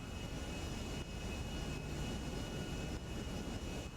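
A large plane in GTA 5 flying slowly through the air, giving a steady, loud jet-engine roar with constant broadband rumble and a faint high whine, unbroken from start to finish.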